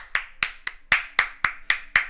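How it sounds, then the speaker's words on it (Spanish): A single person claps eight times at a steady pace, each clap sharp, close and dry, with short silences between. "¡Un aplauso!"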